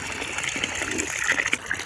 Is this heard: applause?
no